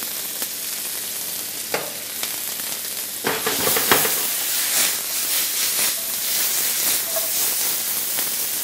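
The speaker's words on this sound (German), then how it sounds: "Aufpassen, nicht zu lange braten, die Tomaten verbrennen sehr schnell." Tomatoes seasoned with salt, pepper, thyme and rosemary fry in a hot pan, giving a steady close sizzle with crackling bursts and a louder flare of spitting around the middle, no voices.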